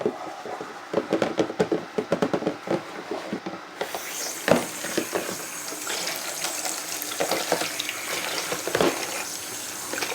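A small basket is washed in hot soapy water at a kitchen sink: first scattered knocks and splashes of handling, then a tap turns on and water runs steadily and fairly loudly into the basin.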